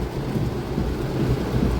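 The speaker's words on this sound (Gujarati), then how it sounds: "વરસાદ મજબૂત પડી રહ્યો" A dense, constant roar of heavy rain in Himmatnagar, with low rumbling underneath, steady and unbroken, with no talk.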